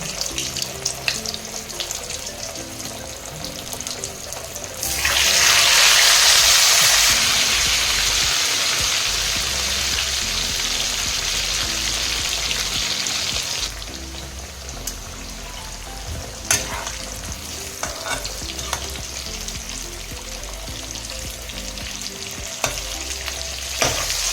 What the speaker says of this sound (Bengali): আমি হালকা তেলে আলুগুলো ভেজে নেব